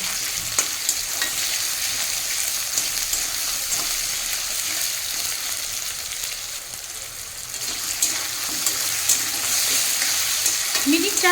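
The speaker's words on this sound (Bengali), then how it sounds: "তো এটাকে একটু নাড়িয়ে ভেজে নেব" Diced potatoes stir-fry in an oily pan with a continuous close sizzle, overlaid by frequent scraping and clinking of a spatula as they are turned.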